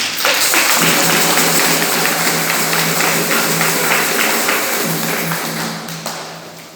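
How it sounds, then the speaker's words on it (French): Congregation at a Christmas Eve midnight mass in a Brussels church applauds, a sustained wash of many hands echoing through the hall and slowly fading. "Applaudissons pour Jésus."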